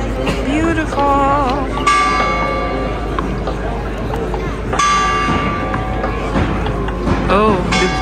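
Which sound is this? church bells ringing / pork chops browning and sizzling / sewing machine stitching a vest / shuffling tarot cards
church bells ringing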